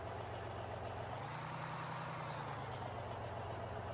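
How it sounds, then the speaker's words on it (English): A truck engine idles steadily in Farming Simulator 15, a continuous low droning rumble with a slight rise in pitch partway through, alone and without speech. "We'll grab the truck here a moment."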